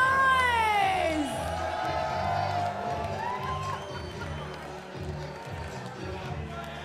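A crowd at a chessboxing event cheers and shouts for a boxer's entrance, a distant, roomy roar of voices beneath a thumping beat of entrance music, with loud whoops and shrill calls rising near the start.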